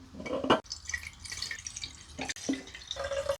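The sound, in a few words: pouring cherry melomel brew into a clean vessel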